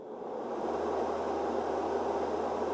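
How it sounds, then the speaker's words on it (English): A Snooz white noise machine runs close by, a smooth, even fan-driven hiss that rises in the first half second and then holds steady with no voices. "That's the Snooz Pro, and here is the Snooz one more time."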